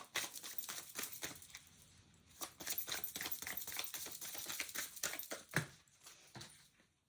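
Cards riffle and flick in rapid papery bursts, a quiet, close shuffling with short pauses between passes.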